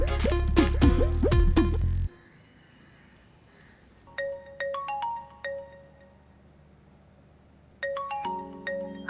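A mobile phone ringtone plays in short melodic bursts separated by pauses, loud and near, after a brief voice at the start.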